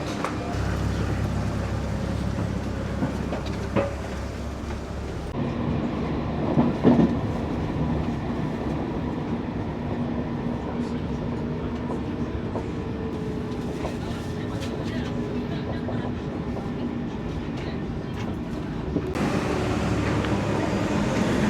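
A crowded tram rolling through Île-de-France, heard from on board as a continuous rumble with clicking over the rails and cabin noise, a few faint voices now and then.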